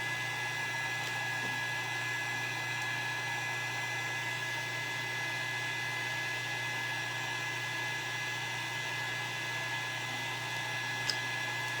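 A steady, continuous whir of a dryer blowing air to dry stamp ink on reclaimed wood, running unbroken and fairly quiet throughout.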